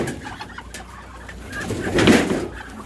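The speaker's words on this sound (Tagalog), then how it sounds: "Uwian silang lahat mga kalapatids." Pigeons coo in a low, throbbing murmur at a loft, swelling to a louder close cooing in the second half, with no talk over it.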